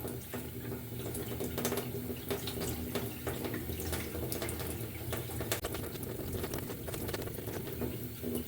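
Water poured slowly off during gold recovery, a steady close trickle and splash with faint patter running continuously, with no talking.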